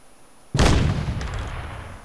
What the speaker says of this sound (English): When in doubt, throw nades.